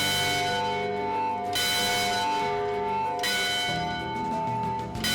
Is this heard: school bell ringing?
yes